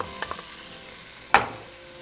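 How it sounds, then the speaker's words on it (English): Roasted, peeled, chopped poblano chile and zucchini sautéing in a pan make a faint, low sizzle. One sharp utensil scrape cuts in partway through, then fades back into the quiet frying. "We're going to saute for about 3 minutes."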